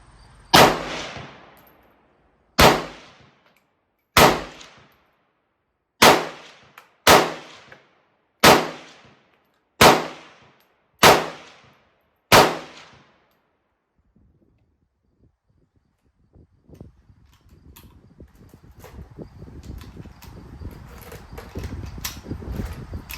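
Nine sharp, loud gunshots from a 1973 Norinco SKS rifle fired at a 25-yard range, spaced roughly one to two seconds apart with ringing decay after each, followed by rising background rustle and handling noise.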